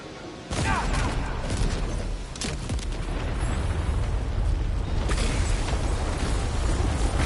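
Sustained heavy gunfire and explosive booms in the video game Death Stranding 2, dense and continuous rumbling bursts that start abruptly and stay loud throughout.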